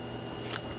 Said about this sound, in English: I have to cut the corners off.